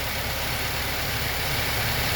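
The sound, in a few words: new truck engine idling, RPM dropping as it warms up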